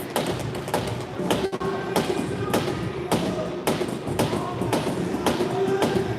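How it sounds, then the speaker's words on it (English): Hockey sticks bang repeatedly against rink boards in a series of sharp thuds, roughly regular, over a noisy arena background during a hockey game. "T-Birds players banging their sticks on the boards, trying to rally their team"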